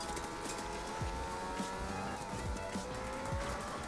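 A car driven in the video game Fortnite, with a steady engine drone that rises in pitch and repeated short tire squeals and skids, loud and continuous throughout.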